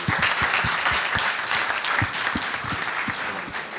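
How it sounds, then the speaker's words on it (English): Audience at a startup pitch and networking event gives a round of applause for the MoonHub founders, steady dense clapping from many hands that tapers slightly near the end, with no talking. "A big round of applause for Moonhub"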